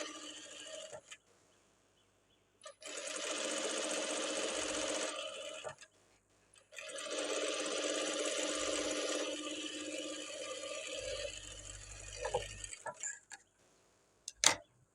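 A sewing machine stitches a blouse hem in two long continuous runs with a short pause between, steady and close, followed by a few clicks and handling knocks, with no talking.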